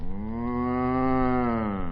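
A cow moos once, a long, sustained, loud low call lasting nearly two seconds, heard close and alone.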